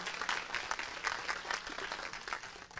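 A church congregation claps together during a sermon, a steady, dense patter of many hands that stays moderately soft and even for its whole length, with no voices heard over it.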